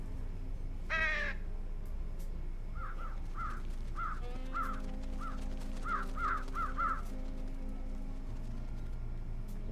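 Crow cawing in the sci-fi miniature adventure game Trüberbrook: a series of short, harsh caws repeating in an uneven rhythm over a steady ambient background, preceded by one brief rising sweep.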